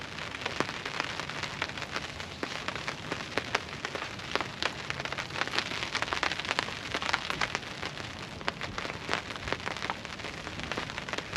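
Steady rain patters densely on a taut surface at a rooftop tent campsite, a continuous crackle of close drops with sharper individual hits scattered throughout, fairly quiet and with no voices.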